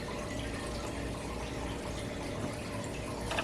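Water pours steadily into a cooking pot, a continuous splashing rush at close range with no pauses.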